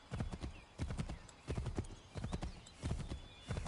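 Horse hooves clip-clop in Assassin's Creed III, quick rhythmic groups of clattering hoofbeats repeating steadily at a moderate, fairly quiet level.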